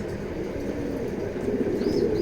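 Racing pigeons coo softly and steadily in a loft, a low continuous murmur with a few faint higher chirps near the end and no talking.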